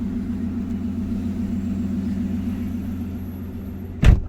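A car engine idles with a steady low rumble close by, holding an even drone before a brief louder thump near the end.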